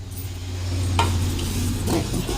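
Dal stirred in a hot pan in a home kitchen, close by, with a steady sizzle under a low hum and a couple of brief scraping strokes.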